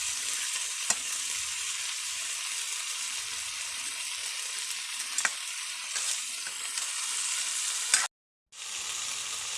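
Dried salted fish (bulad) frying in a pan, a loud continuous sizzle with scattered pops and stirring scrapes, close up, briefly cut to silence near the end.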